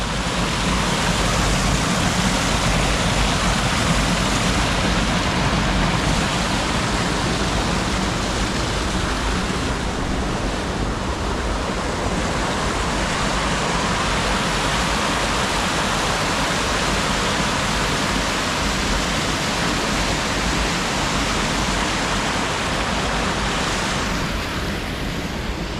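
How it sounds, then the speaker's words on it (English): A river rushes steadily through a rocky gorge, a loud, continuous broadband roar of flowing water with no pauses and no voices. "The river flowing through the middle."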